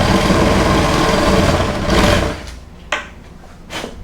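A drill bit bores through scrap wood with a loud, steady whirring grind for about two seconds, then winds down and stops, followed by a couple of faint knocks.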